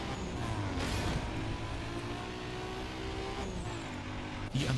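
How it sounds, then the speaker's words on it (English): A Nissan RB26 engine revs in a racing video game, a loud, continuous car engine note with shifting pitch that stays strong throughout, with a brief dip and surge near the end and no talking. "Does the RB26 sound like Brian's Skyline from Too Fast, Too Furious?"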